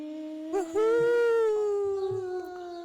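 A frightened puppy lets out a long, wavering howl, rising and then slowly falling, with brief whimpers and faint background noise around it.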